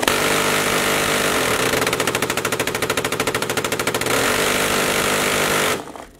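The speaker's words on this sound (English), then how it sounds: "I've been hearing a minigun" A minigun fires at an outdoor shooting range at a firearms trade show: a loud, continuous buzzing roar of extremely rapid shots that holds for several seconds, then cuts off abruptly.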